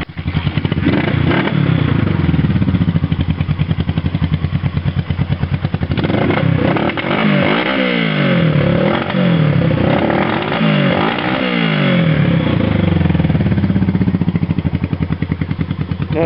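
A 1971 Honda CB350 twin motorcycle engine runs continuously, a close, loud, throbbing exhaust with rhythmic pulses and some revving swells, heard alone without talk.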